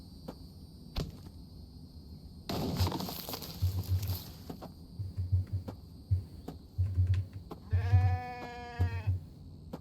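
Sheep bleating in a survival video game, a harmonic bleat near the end standing out over rhythmic low thumps and a burst of rustling noise earlier, no talk.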